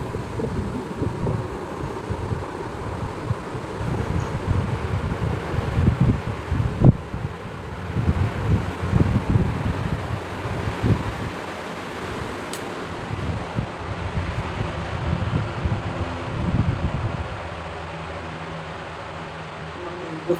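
A Mira stand fan runs at its lowest speed, giving a steady, close airy whoosh that continues without a break and eases slightly toward the end.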